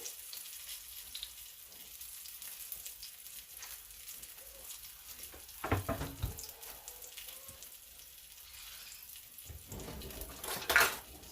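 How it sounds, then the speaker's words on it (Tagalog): A salmon fillet fries in a pan with a steady, moderately loud sizzle. Two short louder bursts of clatter break in, one about midway and one near the end, probably from a utensil or the pan being moved. "So, fry it until it's light brown, yeah? Or until the fish is well done."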